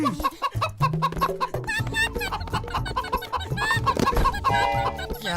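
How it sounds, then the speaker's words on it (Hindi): A cartoon chicken clucks in quick repeated bursts amid busy animated-show audio, with voices and music-like sounds layered over it. "वाह, मोटू, मुर्गी पकड़ने का कोई आइडिया बता।"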